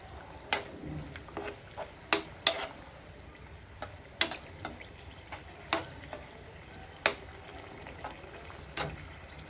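Sesame pork with bamboo shoots stirred in a pan gives irregular scraping clicks and knocks of the utensil against the pan over a soft, low sizzle, with no talking.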